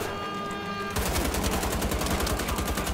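Rapid automatic gunfire from the shooter game Wolfenstein: The Old Blood begins after a brief quiet moment and continues as a loud, steady stream of rounds until the end, with no talking.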